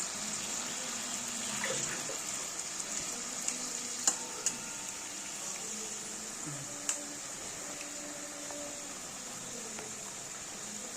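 Fish curry with potatoes, beans and lentil dumplings bubbling in a pan, a steady soft sizzle and simmer with occasional clinks and pops, continuous and close, no talking.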